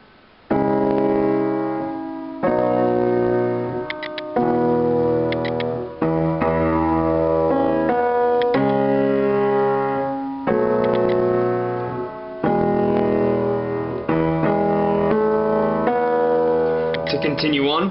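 Piano chords and open right-hand notes from a song, played as a steady sequence of sustained chords with repeated struck notes, moderately loud and close.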